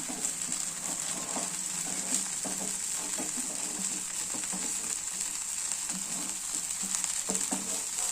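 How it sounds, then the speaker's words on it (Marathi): A dosa fries in a pan with a little oil, giving a steady, close, continuous sizzle and crackle that holds evenly throughout, with no talking. "बघा छान असा डोसा शिजत आहे"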